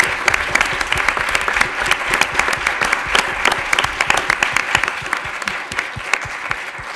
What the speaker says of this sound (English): Can we give them some applause for coming here